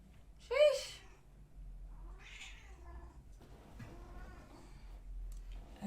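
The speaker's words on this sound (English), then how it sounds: "My 18-year-old cat." An 18-year-old cat meows indoors, one clear, close meow followed by a softer second call and quieter vocal sounds, over a low, steady background hum.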